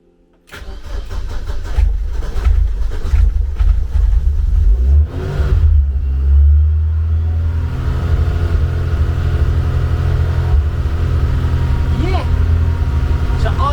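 A car engine cranks and catches abruptly, then roars through loud revs before settling into a steady, rough idle, close and dominant with voices talking over it.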